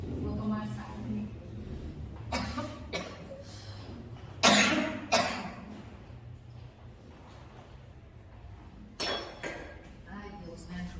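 A woman coughs several times during a lecture, in sharp separate bursts close to the microphone, with a few soft clinks of glass and dishes in a quiet room.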